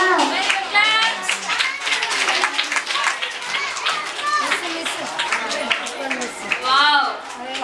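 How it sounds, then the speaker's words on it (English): Kids clap their hands together at a school fruits day celebration, a lively burst of claps mixed with children's chatter and an adult voice throughout. "Claps."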